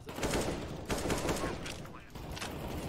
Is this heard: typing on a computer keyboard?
no